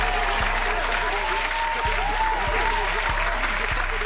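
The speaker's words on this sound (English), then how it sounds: "Get some hand claps for ownership." People clapping hands in a studio, a dense burst of applause that holds steady over a few seconds, with some louder individual claps standing out and faint voices underneath.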